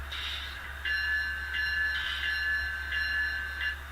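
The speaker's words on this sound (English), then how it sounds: "Hitting the bell right now." A model train bell, triggered from an NCE wireless ProCab controller, rings in a steady, repeating electronic pattern of tonal pulses over a low background hum.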